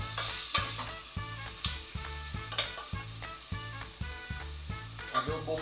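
Chicken liver adobo sizzling in a pan, a continuous close sizzle overlaid by a regular rhythm of stirring scrapes roughly every half second, no speech.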